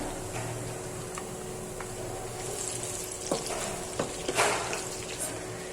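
Frying arbi masala crackles and sizzles in a pan as chopped tomato goes in, with a steady hiss broken by a few stirring clicks and scrapes.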